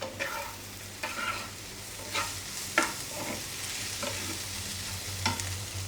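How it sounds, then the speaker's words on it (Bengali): Vegetable bhaji cooking in a pan, stirred in regular strokes about once a second, each scrape rising over a quiet continuous sizzle, fairly faint and close with no voices. "আর এখানে রান্না হচ্ছে ভাজি।"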